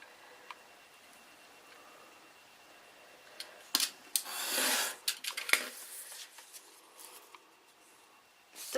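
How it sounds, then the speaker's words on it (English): Scissors cutting paper to size for craft book pages: soft close snips and rustling, a longer slicing cut in the middle with scattered clicks around it, quiet overall, no talk. "You just need to cut it to size."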